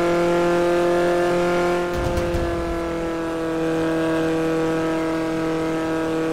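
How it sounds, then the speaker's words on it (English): A Toyota Camry in the video game GTA is driven at high speed, its engine holding a loud, steady high-revving drone throughout, with a brief scuffing disturbance partway through. "This Camry tops out at about 230."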